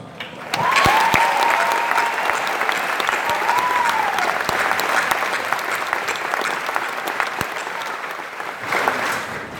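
Crowd applause at an Army basic training graduation ceremony honoring the drill sergeants, a dense, sustained clapping that swells in and holds steady for several seconds, with a few faint whoops rising above it.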